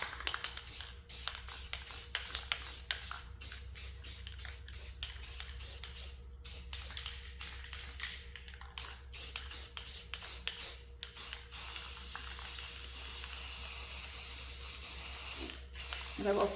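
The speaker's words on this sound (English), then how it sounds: "I can tell the difference spraying this one versus the other one" Short bursts of spray paint hiss from a trigger-handle can onto small plastic nativity figurines, a quick rhythmic series of close sprays with brief gaps, ending in a longer continuous spray.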